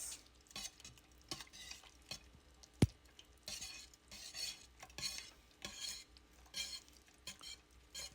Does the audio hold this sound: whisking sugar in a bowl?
yes